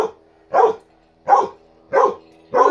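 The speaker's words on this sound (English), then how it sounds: "You growling at that cute little puppy?" A dog barks four times at an even pace, each bark sharp, close and loud, with short silent gaps between them.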